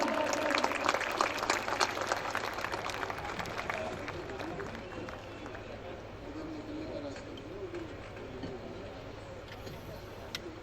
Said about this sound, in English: Please clap, everybody.